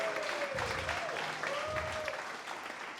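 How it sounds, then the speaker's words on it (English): Applause for hackathon participants at a startup weekend event, a moderate, fairly distant round of clapping from a group that carries steadily through, with a faint voice underneath. "Big applause for all the participants for what you accomplished this weekend."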